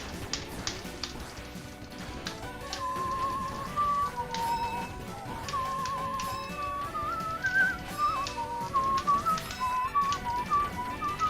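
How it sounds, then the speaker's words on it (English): A person whistles a wandering melody over a dense musical backing, the tune rising and falling steadily through most of the stretch at moderate loudness. "Lord of the Rings whistling."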